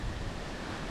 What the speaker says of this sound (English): Careful the wind don't blow you